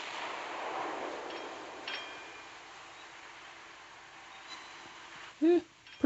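Warship guns firing in the Naval Creed naval combat game during a battle against an Omaha cruiser: a muffled, distant booming swell at first, then quieter rumble and a few sharp metallic hits near the end.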